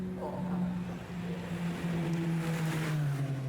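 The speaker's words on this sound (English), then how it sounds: "the final car does finally cross the finishing line here in the 750 Formula Championship" A 750 Formula race car at Snetterton crosses the finish line, its engine a sustained, fairly loud tonal drone that holds and shifts slightly in pitch as it passes.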